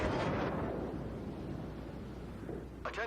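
Naval gunfire aimed at a battleship in World of Warships, heard as a loud, deep rumbling boom that fades into a long roll, with a brief sharp electronic cue at the end.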